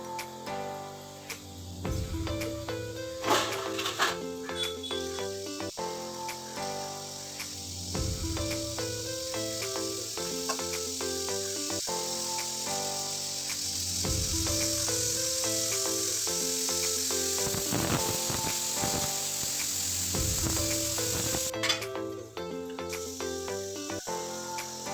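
Steam hisses steadily from a puttu steamer in a home kitchen, a constant airy rush that runs beneath louder background music for the whole stretch.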